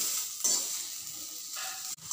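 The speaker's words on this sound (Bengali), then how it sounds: "এবার এটাকে আবার ভালোভাবে ভেজে নেব" Bitter gourd and potato pieces frying in a pan, a steady close sizzle with brief stirring scrapes and a short drop near the end, no talking.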